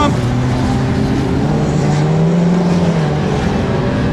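Single-seater race cars running side by side through a corner on a road course, a loud continuous engine drone with shifting pitch that rises and falls as they pass, with a commentator talking over it.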